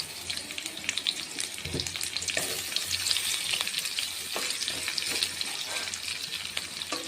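Chopped garlic and onion hitting hot oil in a pan, a bright continuous sizzle with scattered pops and stirring scrapes, moderately loud and close, with no talking.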